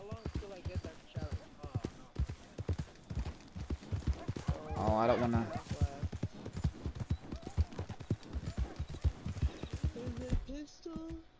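Horse hooves clip-clop at a steady trot in the video game Red Dead Redemption 2 on a dirty white horse, with a brief whinny midway and a person talking over the hoofbeats.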